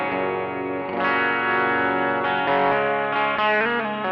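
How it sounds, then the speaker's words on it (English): Telecaster bridge pickup played through a reverb pedal into a driven amp: sustained distorted chords with a lush reverb wash, shifting to new voicings every second or so, loud and close with no voices. "A reverb pedal on, obviously, and also I have the reverb going into the front end of a driven amp"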